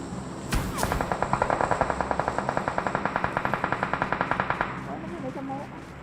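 A long, rapid, evenly spaced burst of automatic gunfire from PUBG Mobile on the Livik map rattles for about four seconds over a steady game background, followed by quieter ambient rumble.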